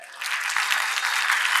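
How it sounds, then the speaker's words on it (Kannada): Loud applause from an audience at a film title teaser launch event, a dense steady burst of clapping that swells after a quieter start and holds throughout. "ಜೋರ್ ಚಪ್ಪಾಳೆ"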